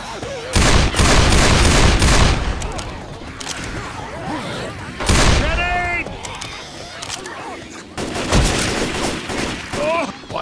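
Gunfire in the Left 4 Dead zombie shooter game: loud, close bursts of rapid automatic fire in several volleys, with in-game character voices shouting between and over the shots.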